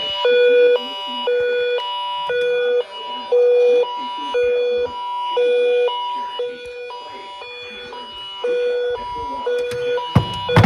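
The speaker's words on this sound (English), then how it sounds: "test of the NOAA weather radio warning alarm device" A NOAA weather radio warning alarm on KIH58 sounds as a loud, steady two-tone electronic beep, pulsing in repeated sustained bursts with brief gaps between them.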